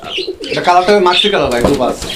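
Female and male fancy pigeons at a farm cooing, with soft bird calls and a few chirps close by across the whole stretch, mixed in with a voice.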